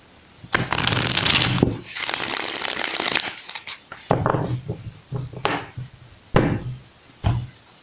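Tarot cards are shuffled in several bursts of riffling and rubbing, with short pauses between handfuls, close and clear.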